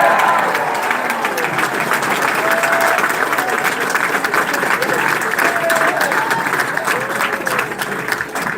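Town hall rally audience for a New Jersey governor race bursting into loud applause with some cheering and whoops, a thick sustained roar of clapping that stays strong for several seconds before easing slightly.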